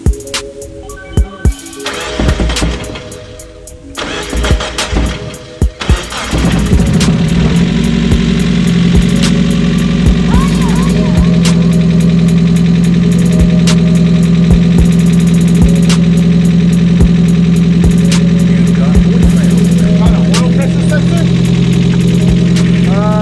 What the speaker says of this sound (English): we got the MIATA running, but the only problem was that it's misfiring on cylinder number 4